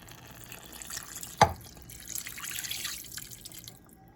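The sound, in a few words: water poured from a cup into a cooking pot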